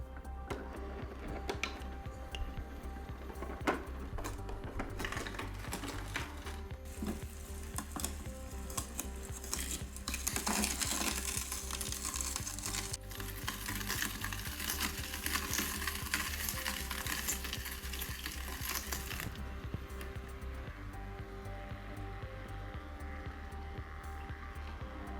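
A Sana masticating juicer juicing carrots, its motor droning steadily for a long stretch with grinding and crunching textures as the auger works, the pitch shifting in places.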